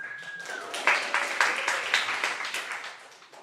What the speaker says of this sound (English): round of applause for Pizza